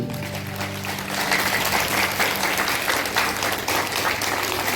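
An audience at an International Yoga Day session claps loudly, a sustained crowd of hands beating steadily over a low hum, growing slightly fuller after the first second.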